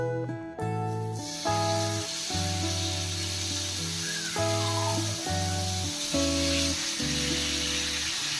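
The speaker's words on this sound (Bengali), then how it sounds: "এখন ফ্রাই প্যানে মাছগুলো দিয়ে দেব" Pomfret fish hiss and sizzle steadily after being laid into a brush-oiled frying pan, a continuous close frying noise running beneath background music.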